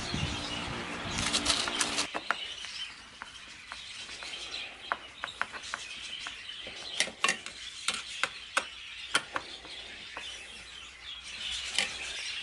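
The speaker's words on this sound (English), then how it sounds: "I got a really long screw, put it in, tapped it to make a little tiny dent in the plastic" A long pan head screw being driven into plastic, heard as a run of close, sharp ratcheting clicks and taps at an irregular pace, with a brief rustle at the start.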